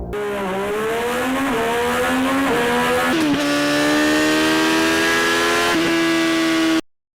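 A Triumph Street Triple R superbike engine revs loudly and steadily, pitch climbing and dipping through several throttle blips with a sustained high-rpm howl and no talking.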